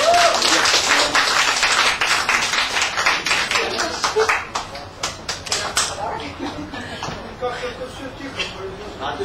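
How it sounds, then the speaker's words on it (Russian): Dense clapping from a crowd at an apartment key handover, loud at first and thinning into scattered claps toward the end, with some voices mixed in. "Аплодисменты!"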